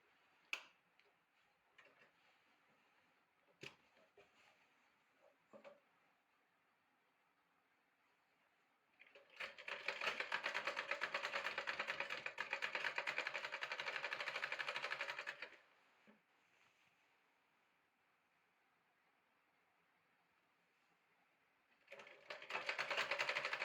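A sewing machine stitches the folded hem of a nighty in two loud, rapid rattling runs, one about six seconds long and a shorter one at the end, after a quiet stretch of scattered clicks and taps.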